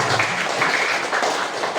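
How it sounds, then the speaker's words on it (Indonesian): A group at an indoor gathering claps together in a steady, dense wash of applause, sustained and fairly loud throughout the short stretch. "Tepuk tangan untuk kita semua."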